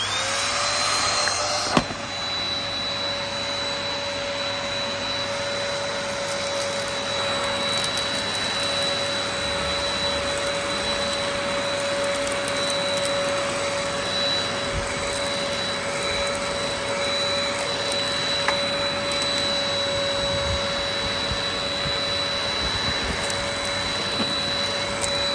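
A Dyson vacuum cleaner runs continuously with its brush bar spinning, a steady loud whine holding a constant tone throughout, close and alone after a brief click at switch-on.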